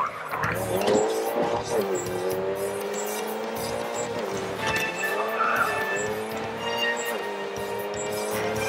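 A KTM X-Bow R racing in GRID 2, its engine droning in sweeping pitch shifts as tires squeal and skid through corners, loud and close throughout.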